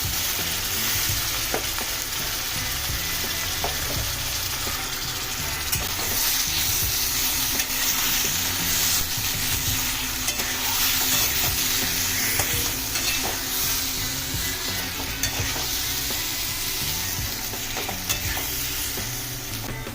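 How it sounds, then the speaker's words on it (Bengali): Chicken marinated in onion, garlic and ginger paste, turmeric and chili powder frying in a little oil in a pan for chicken masala curry, giving a continuous loud, close sizzle with constant stirring and scraping throughout. "যেটা দিয়ে ম্যারিনেট করেছি সেটা আমি মাংসর সাথে একটু ফ্রাই করে নিচ্ছি হালকা"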